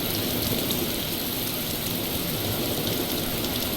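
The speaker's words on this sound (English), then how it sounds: "Oh, rain." Steady rain in the DayZ video game, a dense, even hiss of falling drops that holds at one level throughout with no voices.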